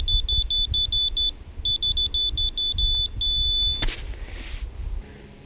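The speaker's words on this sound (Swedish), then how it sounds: "för varje varv det hjulet snurrar så ger den pip ifrån sig" An electronic fishing bite alarm beeps in rapid bursts of short, high-pitched tones, pausing briefly between groups, then stops.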